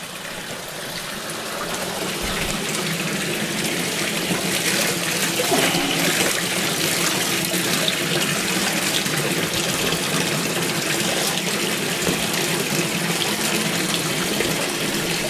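Water runs steadily from the spout of a village fountain at an outdoor Friday market, a continuous close splashing gush that swells in after a quiet opening and keeps going without pause.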